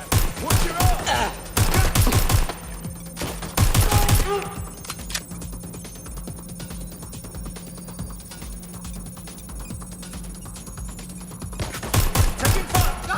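Gunfire in the video game Watch Dogs: Legion comes as dense automatic bursts, loud and rapid at the start, then a quieter stretch of faint background noise, and renewed bursts of fire near the end.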